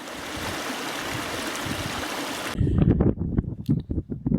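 A Dartmoor stream flows in a steady, close rushing wash, then gives way to louder, uneven splashing bursts toward the end.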